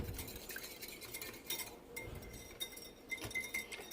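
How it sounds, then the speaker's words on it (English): A whisk clinks against the inner pot of an Instant Pot while stirring milk for Greek yogurt, giving faint, scattered metallic taps and scrapes at an uneven stirring rhythm. "now I'm going to take our whisk and just make sure this is really well incorporated"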